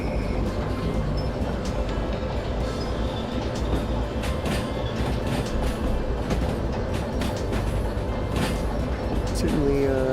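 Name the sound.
DE6 diesel locomotive pulling long train in video game Derail Valley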